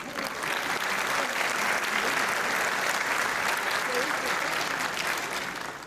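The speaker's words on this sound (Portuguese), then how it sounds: "A estes pequenos músicos, os nossos aplausos e o nosso agradecimento." A crowd at a formal swearing-in ceremony for a state prosecutor general applauds young musicians, the dense clapping even and sustained from fairly near, carrying on for several seconds.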